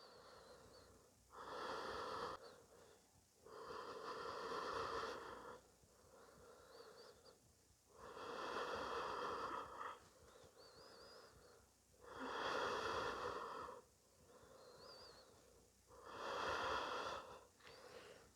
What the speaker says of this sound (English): the only thing you want to focus on is to breathe